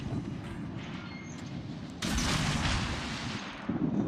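Naval guns of the cruiser Algerie firing HE shells in a video game, a continuous heavy rumble of gunfire that jumps louder partway through, with a sharper burst at the end.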